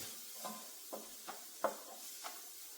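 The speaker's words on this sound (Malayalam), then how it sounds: "ഗരം മസാല നമ്മൾ പൊടിച്ചു വെച്ച പൊടിയില്ലേ അതാണെങ്കിലും നമുക്ക് ചേർത്ത് കൊടുക്കാം അപ്പം ഇതെല്ലാം കൂടെ നന്നായിട്ടൊന്ന് ഇതാവട്ടെ മിക്സ് ആവട്ടെ" A spoon stirs ground garam masala through a masala mix in a frying pan, five soft, evenly spaced scrapes and taps against the pan over a faint sizzle, quiet and close, with no talk.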